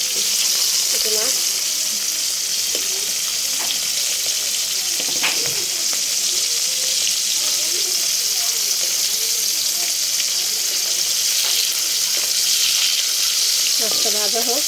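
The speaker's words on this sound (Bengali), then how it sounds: "এরকম মাছগুলো সুন্দর করে ভাজছি।" Hilsa fish fry in hot oil, giving a steady, close hiss of sizzling that carries on throughout, with a few faint clicks and birds cooing softly in the background.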